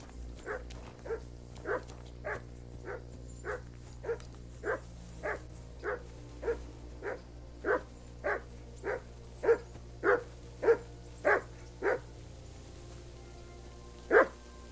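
A dog barks steadily in Kingdom Come: Deliverance 2, about twenty evenly spaced barks at a moderate distance, growing slightly louder toward the end over a quiet low ambient hum, with no talking.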